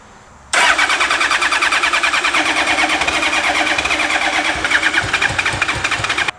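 A Honda Blackbird motorcycle engine cranks and catches after a quiet start, then runs loud and close in a steady, rapid, rumbling idle until the end.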